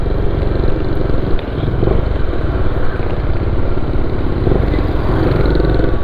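Motorcycle engine running steadily close by, a continuous loud low rumble with dense rattling pulses, heard alone without talk for several seconds.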